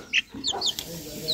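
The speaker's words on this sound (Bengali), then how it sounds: "এগুলো হচ্ছে ব্রাহ্মা মুরগি।" Brahma chickens, a foreign breed with feathered feet, give a few soft clucks and short calls close by in a partitioned farm pen.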